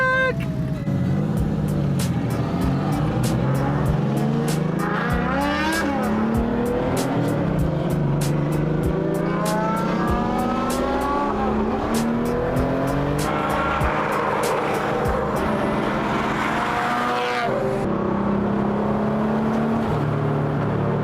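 A RUF and a hotrod Porsche, turbocharged and running high boost, drive on mountain roads: engines rev up and down through gears, rising and falling in pitch, loud and close, with occasional tire squeal and a voice talking now and then.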